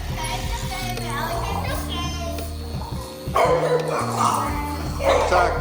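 A dog barks and yips during play around a homemade electric ride-on car, with the barks mixed into loud talking and children's voices close by.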